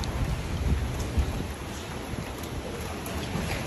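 Heavy rain from a thunderstorm at an airport runway, a constant dense hiss with low rumbling underneath and no speech.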